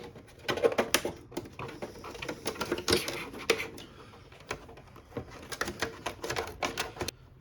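Curved scissors snip through a clear polycarbonate Lexan body shell for a Tamiya Subaru Impreza WRX STi RC car, a close, dry rhythm of quick crisp cuts in uneven bursts with short pauses between them.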